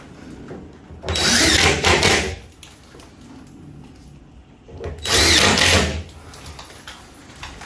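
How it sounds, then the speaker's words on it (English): A power driver whirs in two sustained bursts, each about a second long with a pause between, as screws go into old, dusty plasterboard during a plaster patch repair. "So, ping a few screws in there"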